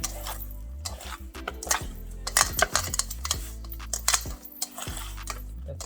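Raw beef being mixed with onion powder and cornstarch in a bowl, giving repeated clinks, scrapes and taps of a utensil against the dish, close and steady with no voices.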